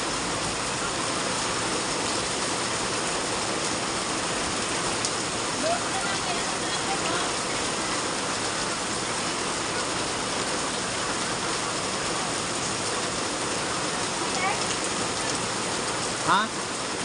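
Steady, dense hiss of rain falling continuously, with faint voices murmuring underneath and a brief louder patter near the end.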